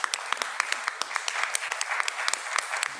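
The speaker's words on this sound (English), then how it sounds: "if we could do one round of applause for Gretchen," Attendees at a town council meeting break into a round of applause, a steady patter of many hands clapping with sharp individual claps standing out, sustained for about three seconds at moderate volume.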